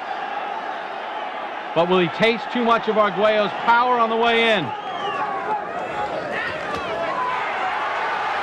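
A pro-Mancini boxing crowd in Atlantic City murmurs and swells steadily through the Argüello vs Mancini fight, with a commentator talking clearly over the background roar.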